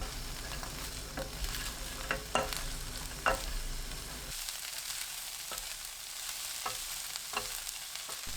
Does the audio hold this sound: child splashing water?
no